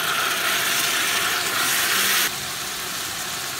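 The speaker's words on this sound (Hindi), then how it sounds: "लहसुन अदरक को फ्राई करने के बाद अब मैं इसके अंदर चिकन डाल दूँगी और इसको भी फ्राई करूँगी" Chicken frying in a pot with garlic and ginger, a steady loud sizzling hiss that drops slightly in level partway through, with no voices.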